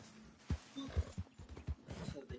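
Horse hooves clip-clopping in Red Dead Online, a short run of thudding steps close by with a brief whinny-like tone, under low talk.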